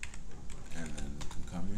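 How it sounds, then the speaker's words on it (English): A computer keyboard clatters as someone types code comments: steady, fast, close-up keystrokes with uneven clicks and a soft, murmuring voice underneath. "Let's actually write some comments here"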